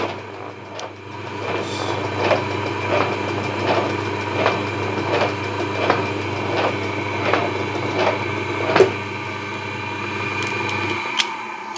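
A New England metal shaping machine, not bolted down, runs after its clutch is engaged, with a steady mechanical hum and rhythmic knocks as the ram strokes back and forth about every three-quarters of a second, close and loud.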